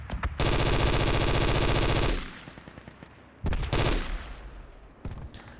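Sustained machine-gun fire in the military shooter Project Reality, a loud close burst of about two seconds, followed by echoing tail and more short bursts.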